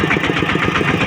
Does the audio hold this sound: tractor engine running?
yes